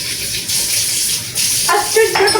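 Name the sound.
water running into a kitchen sink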